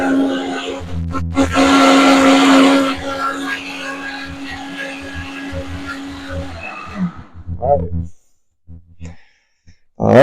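A blender whirs loudly as it mixes three ingredients into a drink, strongest for the first few seconds, then running lower and rougher before cutting out into near silence, with a brief clatter at the end.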